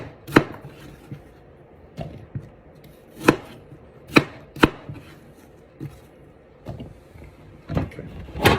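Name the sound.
knife slicing apples into cubes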